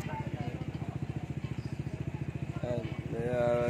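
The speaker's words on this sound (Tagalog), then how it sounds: "Ito na yung motor ko." A repaired motorcycle engine chugs in a steady, evenly pulsing idle close by, with a voice talking briefly over it near the end.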